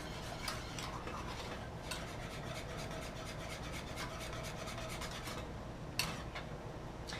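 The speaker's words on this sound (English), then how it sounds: "keep whisking this until there's no more lumps" A whisk scrapes and rasps steadily through a mixture in a pot over the heat, a continuous close rubbing texture with occasional sharper clicks against the sides, no voices.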